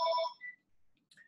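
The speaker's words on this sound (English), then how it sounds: "phone going in the background here." A telephone rings in the background of an indoor room, giving one short electronic tonal burst followed by fainter chirping fragments, fairly quiet and with no one talking over it.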